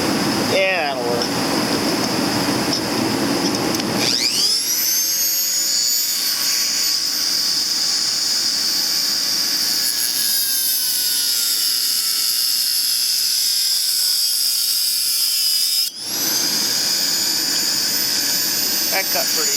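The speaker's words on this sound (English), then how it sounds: "So I'm going to use my Dremel tool here." A Dremel rotary tool spins up to a high, steady whine while cutting through a hose, then cuts off abruptly near the end and briefly restarts.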